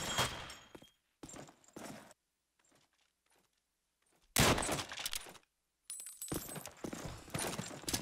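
Grenades exploding in an online Call of Duty 2 match: several separate loud blasts and bursts with sharp onsets and short gaps of near silence between them.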